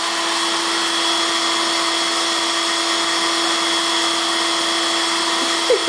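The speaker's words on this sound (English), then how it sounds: "Are you like vacuuming?" A household vacuum cleaner runs steadily and loudly without pause, its constant whine and airflow roar filling the space, with a faint click near the end.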